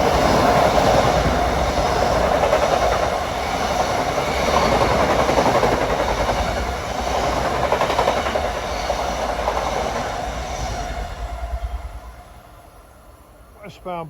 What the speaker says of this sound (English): He was overtaken by 5051, an equipment train from Ronkonkoma to West Side Yard.